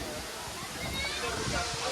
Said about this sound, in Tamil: தண்ணி நல்லா தான் வருது.